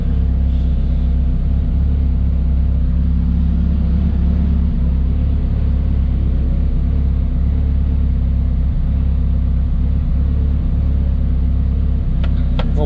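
A car engine idles steadily inside a building, running through an intercooler, a constant low rumble throughout with a few faint clicks near the end.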